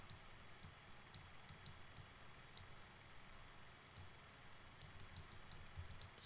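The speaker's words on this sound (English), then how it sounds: "So I'm just going to hit F on the keyboard." Scattered clicks of a computer keyboard and mouse during 3D terrain modelling, faint, sharp taps in small clusters and pauses over a low background hum.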